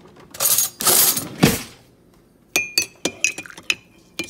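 After some rustling and brushing sounds, a spoon stirring tea taps against a glass in a quick series of bright, ringing clinks, close and clear with no talking.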